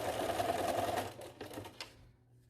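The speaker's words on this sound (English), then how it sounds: "So when you get to the edge here, make sure you reinforce the stitch." A sewing machine runs steadily while stitching along the edge of a fabric face mask, a close continuous rattling hum that slows and stops after about two seconds.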